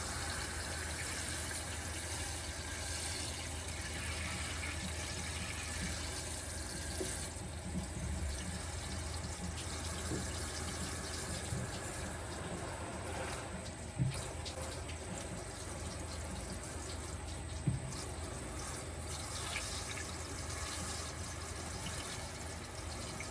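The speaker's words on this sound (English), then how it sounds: "I'm gonna run some water just around the trunk lid" Water runs steadily over the trunk lid of a Plymouth Gran Fury, a continuous hissing gush at moderate distance, with a couple of faint knocks and no talking.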